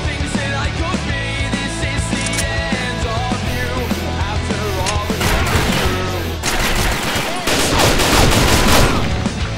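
Busy gunfire from the Warhead shooter game, with rapid shots and volleys under a steady game soundtrack, growing denser and louder toward the end, while a voice talks now and then.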